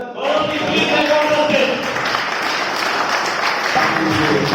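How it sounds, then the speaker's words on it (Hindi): Loud, sustained audience applause fills a seminar hall as a mentor is welcomed onto the stage, steady clapping from a large crowd running throughout. "जोरदार तालियों से स्वागत करते हैं मेंटर"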